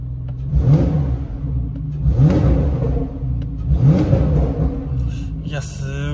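A 2018 Porsche 911 Carrera T (type 991.2) accelerates hard in sport mode, its engine swelling in three repeated rising revving pulls heard from inside the cabin, with a voice speaking near the end.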